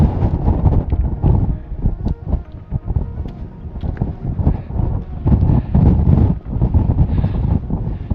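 Strong, gusty wind on a mountain top near Scafell Pike buffeting the microphone in constant low rumbling roars, no voices.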